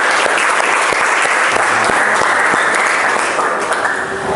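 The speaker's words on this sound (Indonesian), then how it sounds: "kasih tepuk tangan buat kelompok 1" Classroom students clapping for a group after a presentation, a dense, loud, steady round of applause filling the whole stretch without letting up.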